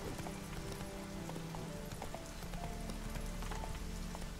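Horse hooves clip-clop in a quick, steady rhythm as a rider travels in the video game The Witcher 3, with a low ambient bed underneath and no talking.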